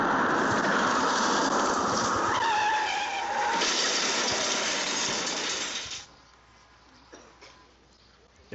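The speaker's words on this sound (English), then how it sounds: "Cars are traveling in every direction" Cars drive along a road on a Saturday night, their engine and tyre noise forming a loud, steady rush that drops away abruptly to quiet background with a few faint knocks.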